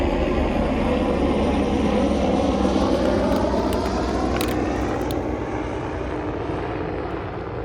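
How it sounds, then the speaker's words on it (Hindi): A helicopter flies overhead, its rotor and engine drone loud and steady throughout, slowly fading a little toward the end. "एक हेलीकॉप्टर जा रही, जाने दीजिए, फिर बात करते हैं।"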